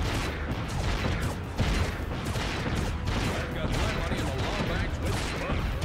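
Weapon fire in the Ratchet & Clank video game, a dense continuous barrage of blasts and crackling impacts filling the whole stretch, loud and steady, with a voice talking underneath.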